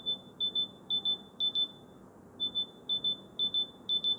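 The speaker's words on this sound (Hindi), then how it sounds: "इस तरीके का जो है ना एक हाई पिच वाला साउंड जो कि धीरे धीरे लाउड होता जाएगा, वो आपके ईयरफोन में प्ले होगा" Oppo Enco Buds 3 Pro earbuds play a high-pitched find-my-earbuds locating tone: short beeps in quick pairs, repeating at a steady rhythm with a brief gap partway, fairly faint over a quiet background.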